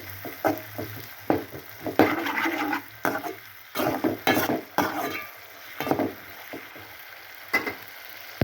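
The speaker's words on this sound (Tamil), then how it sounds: "இதை நல்லா வதக்கிட்டு போவோம்" Egg curry base sizzles and is sautéed in a pan, with repeated scraping strokes in irregular bursts close by, no talking.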